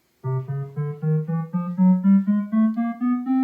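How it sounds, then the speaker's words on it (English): A rising chromatic scale of about thirteen closely spaced notes played steadily in succession on one instrument, clear and close with no talking. "you would get a chromatic scale. It's all half steps."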